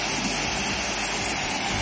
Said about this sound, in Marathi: पाण्याचा जुळजुळ आवाज